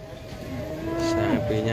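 A Simmental cow gives a long, low moo nearby, rising in strength, with faint background noise and no talking.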